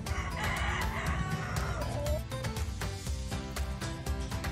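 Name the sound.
rooster crowing in a chicken coop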